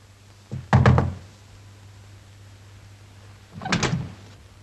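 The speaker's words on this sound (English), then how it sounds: "I heard your knock." Knocks on a door in a 1947 radio mystery drama: a quick cluster of close, solid raps, a pause of about three seconds, then a second cluster, with no talking over them.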